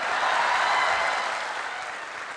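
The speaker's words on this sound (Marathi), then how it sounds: "टाळ्या वाजवा." Audience applause at a Marathi stand-up comedy show: a steady, full wash of clapping from a crowd, loud at first and easing slightly as it goes on.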